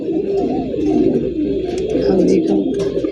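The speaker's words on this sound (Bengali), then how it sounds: "কাগজি কবুতর।" Kagzi pigeons coo in low, throaty, repeated rolling calls, close and continuous, with a few faint higher chirps from other birds in the loft.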